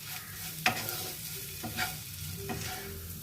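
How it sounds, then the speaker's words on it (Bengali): Spices are stirred into hot oil for a Bengali fish oil fry, producing a continuous low sizzle broken by three scraping knocks of the spoon against the pan. "আমি একে একে সব মশলাগুলো অ্যাড করে দিয়েছি, এটাকে মিক্সড করে নিই।"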